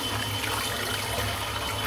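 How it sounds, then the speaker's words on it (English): A shaving brush rinsed out under running water after a head shave, a steady close gushing hiss of water with no pauses. "I'm going to rinse the brush out."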